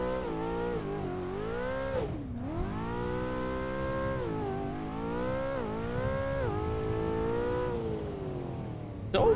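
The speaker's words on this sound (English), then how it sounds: "Full send in this Mustang on this Fort Curva track" A 2024 Mustang roars through a drift on the Fort Curva track in Assetto Corsa, its engine held at a loud, wavering rev with repeated rises and dips in pitch, upgraded R5 wheels sliding, no talk over it.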